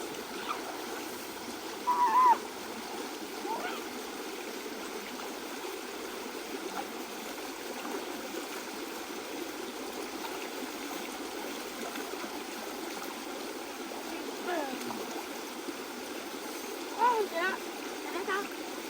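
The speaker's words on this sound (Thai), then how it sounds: "ทาซานไปล้างตรงที่น้ำไหลแรงๆดีกว่า" Fast-flowing stream water rushes steadily and continuously at close range, with occasional brief splashes and voices talking over it.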